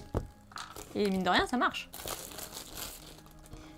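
A Pokémon booster pack wrapper is torn open by hand without scissors, giving short crinkling, crumpling rips close to the mic, with someone speaking partway through.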